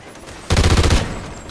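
Rapid bursts of automatic rifle fire from Call of Duty: Ghosts, a loud dense rattle of shots lasting about half a second after a quiet start, then fading into a lingering tail.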